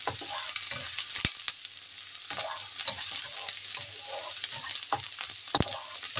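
Ginger and garlic frying in a pan for pork recipes, a steady close sizzle with frequent sharp pops and stirring clicks, no voices over it.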